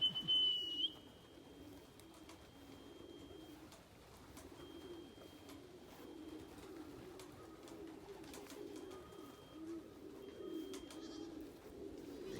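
Racing pigeons returning from a 150-mile race in Eastman, Georgia, give soft, low cooing calls that murmur steadily through the whole stretch, with a few faint chirps and brief high tones above, fairly quiet and outdoors.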